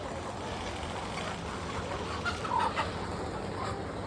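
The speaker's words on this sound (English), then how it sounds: "Have you ever seen these many chickens in a line?" Chickens at a village chicken store in India, many birds lined up together, give off a steady murmur of soft clucks with a few brief louder calls standing out near the end.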